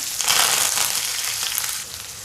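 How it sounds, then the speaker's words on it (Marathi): Chopped garlic and onion frying in hot oil in a pan, giving a close, steady crackling sizzle throughout with no talk. "अगदी थोडासा कांदा परतू देऊया जास्त लाल नाही करायचा"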